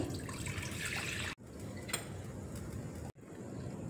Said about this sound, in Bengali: কড়াইয়ে দেখো দুধ দিয়ে দিচ্ছি